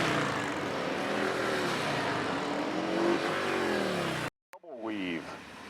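Police motorcycles of the Ontario Provincial Police Golden Helmets precision team ride the single weave maneuver, their engines droning loudly and steadily, with a rising and falling pitch as machines pass close before a brief cut and a fresh engine note.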